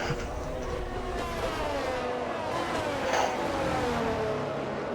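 Racing cars from a video game rumble along on a formation lap at the Spain round, a steady, continuous engine drone with no one speaking.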